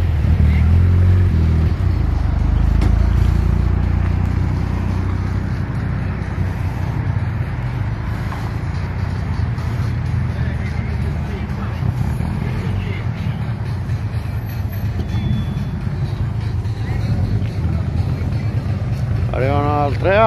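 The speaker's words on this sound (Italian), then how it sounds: "Arrivano altre auto" Vintage Italian cars such as a Fiat 500, Alfa Romeo 75, Lancia Dedra and Lancia Delta HF Integrale rumble as they arrive, low engine noise steady throughout with people talking over it.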